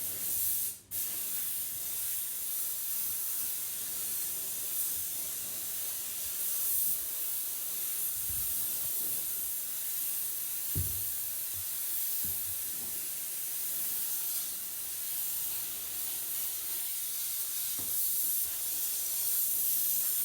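Compressed-air spray gun applying a coating inside a bus under conversion, a steady close hiss running almost the whole time, with a few faint thumps and no talk.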